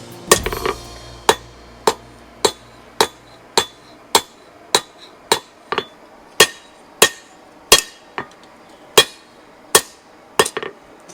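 Hammer blows on the cut tip of a machete being forged, about seventeen sharp ringing metallic strikes in a steady rhythm, loud and close, each with a brief clang decaying before the next.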